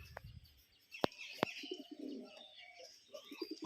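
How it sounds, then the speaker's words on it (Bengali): Pigeons cooing softly at a distance, with a few sharp clicks and faint chirps mixed among the low murmuring calls. "পায়রা কিন্তু এসে গেছে, পায়রা বহুত হাইটে আছে"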